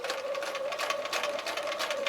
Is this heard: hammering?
no